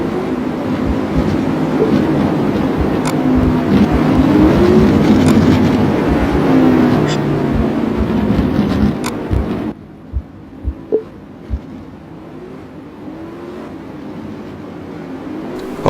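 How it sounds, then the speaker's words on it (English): Street stock race car engines in an ASC/ACR race make a continuous loud roaring rumble that drops sharply in volume partway through, leaving a quieter drone with a few brief knocks. "You can turn down the engine volume a little bit more."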